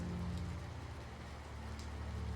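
Heavy rain in an animated cartoon patters steadily over a constant low rumble, a dense, even wash of drops with no voices.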